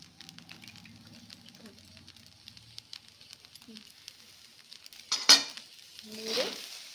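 A paneer dish in a pan sizzles quietly, then two brief, louder scraping stirs of a utensil come near the end, close by and without talk.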